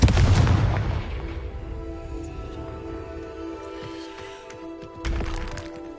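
A Confringo explosion spell in the game Hogwarts Legacy goes off with a loud booming blast that rings and fades slowly, then a second softer burst near the end.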